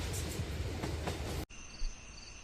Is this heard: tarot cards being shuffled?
no